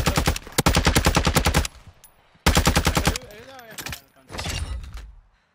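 Two long, loud bursts of SMG fire rattle in rapid rhythm in Call of Duty Warzone on the Al-Mazrah map, followed by shorter bursts and in-game clatter. A voice is also heard speaking.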